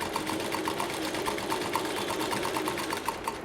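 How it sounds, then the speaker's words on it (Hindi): Sewing machine stitching a folded fabric hem, a steady close mechanical whir with quick regular needle pulses running the whole time. "बस धीरे धीरे आप मशीन चलाते जाइए।"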